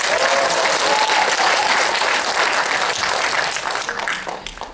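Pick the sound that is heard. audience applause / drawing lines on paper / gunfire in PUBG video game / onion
audience applause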